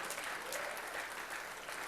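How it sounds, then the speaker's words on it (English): Brief, scattered clapping from three men, faint and thin, lasting under two seconds. "Well, I got 3 men to clap."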